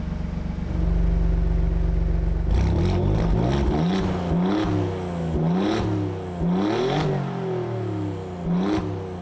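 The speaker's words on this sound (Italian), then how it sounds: "In modalità race il suono è assolutamente eccezionale per essere un 6 cilindri chiaramente biturbo." A 2021 Alfa Romeo Giulia's twin-turbo six-cylinder revs hard in race mode: a loud, close engine swelling and dropping through a series of sharp rev rises, with crackling bursts on each shift.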